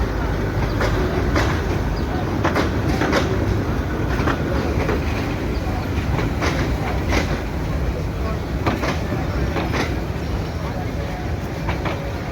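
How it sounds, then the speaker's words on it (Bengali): Train from Kamalapur standing at Narayanganj station on a rainy day, a steady loud rumble of railcars with repeated clacking transients throughout, under crowd noise. "কমলাপুর থেকে আসলো এই ট্রেনটা"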